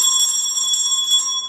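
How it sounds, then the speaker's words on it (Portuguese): A bright notification bell chime rings with steady sustained ringing tones, loud and alone, holding for about a second and a half before fading slightly at the end. "ativa o sininho"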